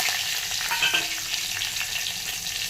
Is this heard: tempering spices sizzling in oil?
yes